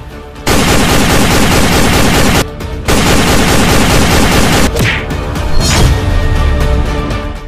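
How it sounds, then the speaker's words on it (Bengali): Loud, rapid bursts of automatic gunfire crackle in a staged Indian army border attack, two long sustained volleys broken by a short gap, then rougher, more scattered shots near the end. "এটা গুলির আওয়াজ"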